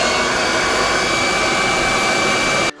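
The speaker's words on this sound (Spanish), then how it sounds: "Podéis utilizar un secador de pelo, como va a ser mi caso" A hair dryer blows hot air onto motorcycle vinyl, a loud, steady, close-up whirring roar that holds constantly before cutting off abruptly at the end.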